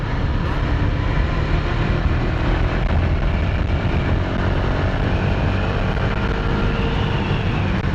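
A KTM Duke 250 motorcycle engine drones loud and steady while riding and shifting into fourth gear, a continuous rumble mixed with heavy wind buffeting on the microphone, no talk.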